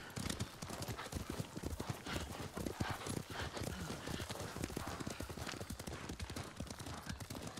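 A horse gallops in Ghost of Tsushima, its hooves pounding in a fast, continuous clip-clop rhythm for the whole stretch, fairly faint and steady, with no voice over it.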